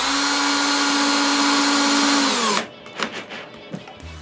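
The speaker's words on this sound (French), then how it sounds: "Je perce un trou dans la barrure de la pelle." A power drill bores a hole through the wooden crossbar of a handmade shovel, a loud steady whine that holds for over two seconds and then spins down. Soft handling knocks and clatter follow.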